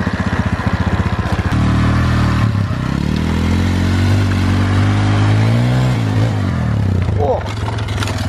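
Quad bike engine running on tires wrapped in 10,000 rubber bands, a loud, close motor drone with rhythmic clattering at first, then steady humming as it coasts, with a voice speaking over it.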